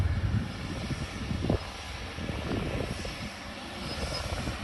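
A Condor airliner departs Ponta Delgada airport in the Azores, its engines giving a distant, rumbling roar that rises and falls slightly, with a sharp knock near the start and wind noise mixed in.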